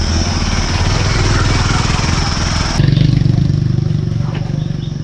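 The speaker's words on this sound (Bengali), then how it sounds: "একটা করে বাইক যাচ্ছে, একটা করে চাঁদের গাড়ি যাচ্ছে" A motorcycle runs along a dusty road in Mirinja Valley, Bandarban, with a loud, steady, close engine drone that shifts slightly in pitch partway through, its rattle filling the scene.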